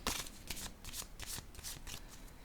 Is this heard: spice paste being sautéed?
no